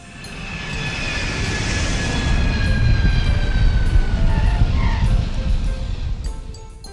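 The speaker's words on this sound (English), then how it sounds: "Stunt plane." A stunt plane's engine roars steadily as it flies overhead, building in loudness and then tapering slightly near the end, with no voices over it.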